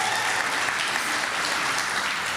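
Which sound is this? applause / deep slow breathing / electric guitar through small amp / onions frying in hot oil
applause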